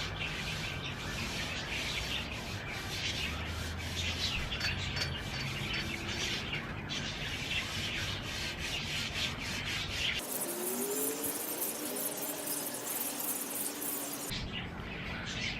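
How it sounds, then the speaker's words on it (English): A Scotch-Brite pad scuffing a chrome bumper before painting, a steady close rubbing hiss that runs throughout, with birds chirping faintly in the background. "just with this Scotch-Brite right here, just giving it a nice wipe down of the whole bumper"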